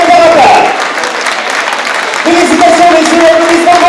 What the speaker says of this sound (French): Félicitations, messieurs, applaudissements pour vous.